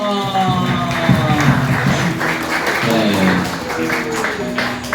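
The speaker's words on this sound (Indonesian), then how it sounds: "Tepuk tangannya dong." An audience applauds a disabled stand-up comedian at an alumni sharing event for a special-needs school in Jakarta, giving a sustained patter of clapping with crowd murmur and tonal sounds underneath.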